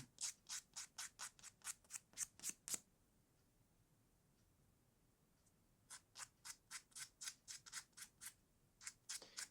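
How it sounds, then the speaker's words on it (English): Soft side of a nail buffer rubbed briskly across fingernails during a close, quiet spa-style session: a run of rapid rhythmic swishes, a pause of near silence, then another steady series of strokes, intimate and alone. "I'm going to just use the softer side for buffing up now"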